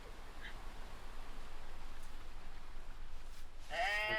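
A sheep bleats in the video game Paranormal P.I., arriving late as a short, fairly clear cry over steady low background hiss.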